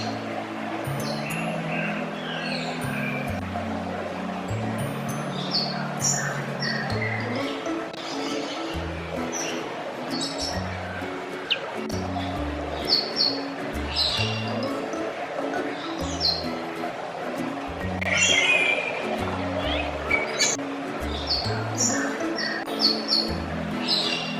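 Assorted birds chirping and calling inside the walk-through aviary at London Zoo, bright scattered tweets over ongoing talk and a low background murmur.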